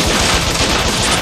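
Dense, loud burst of automatic gunfire in the video game Bot Vice, a fast stuttering stream of shots lasting the whole moment without any voices.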